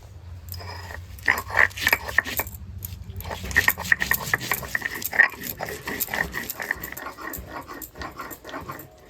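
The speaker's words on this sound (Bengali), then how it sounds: "এবার লঙ্কাটা বাটি নেব।" Dried chillies are ground on a flat grinding stone, making close, rhythmic rasping scrapes and knocks that repeat steadily as the stone is worked back and forth.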